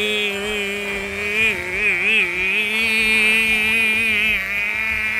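A cartoonish kart engine in Garfield Kart drones with a buzzy, insect-like whine that wavers in pitch as the kart drives, loud and continuous with no voices over it.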